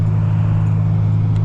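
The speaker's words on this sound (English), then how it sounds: "blipped the throttle a bit there. Truck didn't go any faster, just made more noise." A truck engine at steady idle gives a continuous low hum, with the throttle briefly blipped so the engine runs louder for a moment without the vehicle moving.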